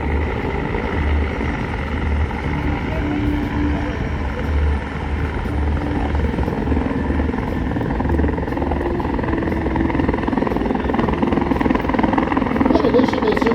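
A Griffon search and rescue helicopter hovers nearby, its engine and rotor droning in a loud steady whir with a low rhythmic thump throughout, while someone speaks over it.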